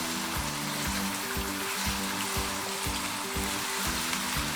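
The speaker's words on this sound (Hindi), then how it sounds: "तकरीबन 5 मिनट तक आपने इसको भूनते हैं।" Meat sizzling in hot oil while being browned for aloo gosht, a steady loud crackle with regular rhythmic scraping or stirring strokes, no voices.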